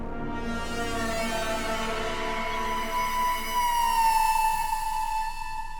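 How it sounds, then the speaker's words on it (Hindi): A siren sound effect rises and holds, a loud sustained electronic wail with layered tones sliding slightly in pitch, playing alone without voices. "सायरन बजने लगता है।"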